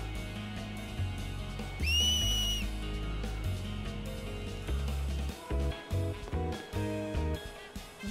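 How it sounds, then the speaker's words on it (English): A sharp finger whistle in the game Final Fantasy X HD rings out briefly as a rising, held tone over busy background music, with no speech. "That was his whistling from his fingers."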